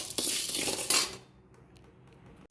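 Urad dal and green gram dry-roasting in a pan with chilli, stirred with a metal spoon that scrapes and clinks against the pan for about a second before the sound drops to a quiet hum.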